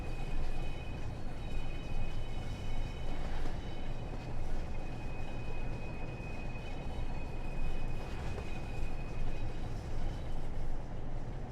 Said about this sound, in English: we've got to wait for the whole train to clear that junction